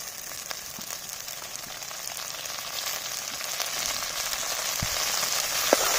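Mint and coriander fry in hot oil with onions for biryani, giving a steady crackling sizzle with scattered small pops, close and continuous.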